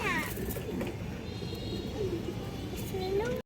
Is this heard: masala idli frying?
no